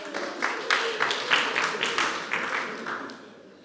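Clapping from the audience at a church music congress plenary comes as a short burst of scattered hand claps that fades out, with some murmuring underneath.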